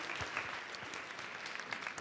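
An audience at a university organizational excellence event applauds, a faint, even wash of many hands clapping throughout with no pauses.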